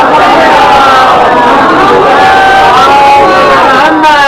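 A mosque or majlis congregation gathered for a Muharram gathering chants salawat together, a loud, dense wash of many voices in unison sustained throughout, close and overpowering.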